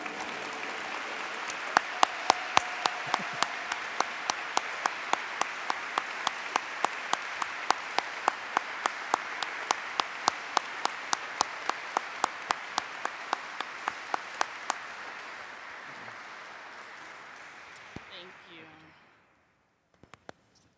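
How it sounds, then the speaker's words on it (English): Audience applause at the 2014 NEN Awards ceremony, a steady wash of clapping with sharp individual claps standing out, continuing loudly before tapering off and fading to near silence at the end. "Keep the applause going."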